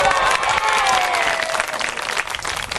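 Audience applause at a church event, dense and steady clapping from a crowd filling the whole stretch, tapering slightly toward the end.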